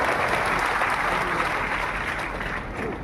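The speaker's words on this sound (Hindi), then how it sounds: "एक बार हम जोरदार तालियों से इस परिवार का धन्यवाद करें।" A large audience at a ceremony in honour of a family bursts into steady, dense applause that holds at an even, full level throughout, many hands blending into a continuous roar.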